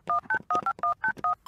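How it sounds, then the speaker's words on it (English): Telephone dialing: a quick run of about eight touch-tone beeps in a steady rhythm, loud and clear, alone with no talk. "Anyways, I'll call Norboy to babysit Furball"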